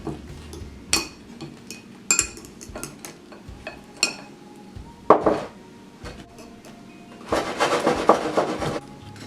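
Warm banana donut holes from an air fryer being dunked in melted butter and rolled in cinnamon sugar, heard as scattered clinks and taps of utensils against dishes with soft rubbing and stirring between, growing busier toward the end.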